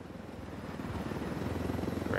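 Steady low rotor throb of a helicopter in the video game Ghost Recon Wildlands, rising slightly in loudness, with a faint voice passing underneath.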